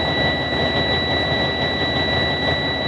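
A semi truck engine idles steadily just after start-up, a constant loud rumbling hum with a high, sustained whine on top.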